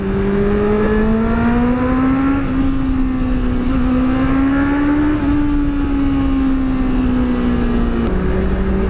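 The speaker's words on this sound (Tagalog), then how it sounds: "kapag medyo mataas yung RPM niya, malakas pa rin yung tunog niya" A Honda CBR650R with a swapped exhaust runs at raised RPM close by, its steady whining drone rising and falling gently in pitch, with a slight drop near the end.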